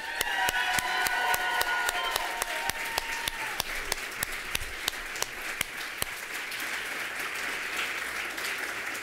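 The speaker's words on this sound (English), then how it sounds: "Another round of applause for our ladies tonight." An audience applauds at an MFA writing thesis reading, a dense, steady round of clapping from a seated crowd that carries on for several seconds without any talking over it.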